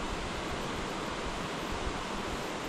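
A river in the New Zealand wilderness, where trout and eels swim, flows with a steady, broad rushing wash, close and even throughout, with no voices.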